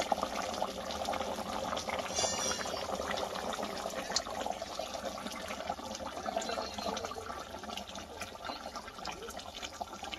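Water poured into a pot of boiling chicken curry cooked outdoors by a truck, a steady gushing and bubbling wash lasting several seconds at close range.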